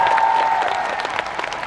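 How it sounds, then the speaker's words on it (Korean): Audience at a public event clapping together, a dense steady patter of applause fading slightly over a short stretch. "박수를 저한테 치면 제 기분이 좋을까요?"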